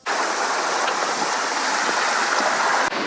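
Steady broadband rush of ocean waves and water churning around a sailboat flying a big symmetrical spinnaker on a Pacific crossing from Mexico to French Polynesia, continuous and fairly loud with no talk, ending in a brief dip.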